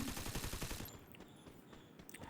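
Rapid bursts of Groza rifle fire in a mobile shooter game rattle off for just under a second, then give way to a quieter bed of game noise with faint scattered clicks.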